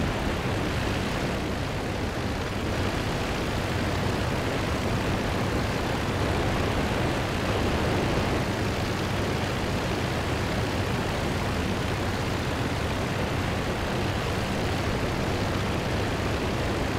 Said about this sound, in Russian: Летит какой-то самолет.